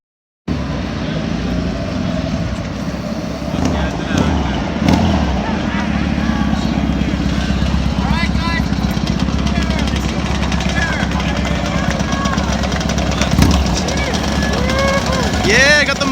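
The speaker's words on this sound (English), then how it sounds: "So, we got more bikes coming in." Motorcycles rolling in at a Distinguished Gentlemen's Ride in Los Angeles, a continuous mix of engine rumble and revs from several bikes, moderately close and steady throughout, with a person talking over the noise.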